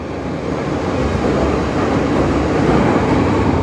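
An MTR M-train at Kowloon Bay station, Hong Kong, produces a steady broadband rumble and rolling roar that holds at a constant, fairly loud level, with no voices over it.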